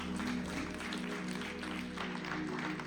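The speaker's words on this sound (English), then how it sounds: "I would like to give a big round of applause and warm welcome to Fatou Ndiaye." An audience claps to welcome a speaker at a gender-smart finance event, a steady, fairly faint wash of applause from many hands for about three seconds.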